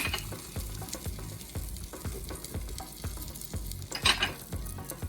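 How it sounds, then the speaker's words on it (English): Bay leaf, garlic, star anise, cloves and cinnamon sauté in butter in a pan, with a steady close sizzle broken by regular scraping stir strokes and a brief louder hiss near the end. "Just kind of saute everything."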